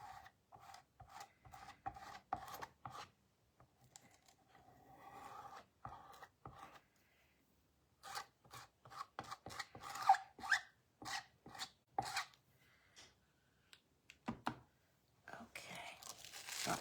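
A squeegee rubs and scrapes over craft vinyl in short bursts of scratchy strokes, close and fairly quiet, with pauses between passes.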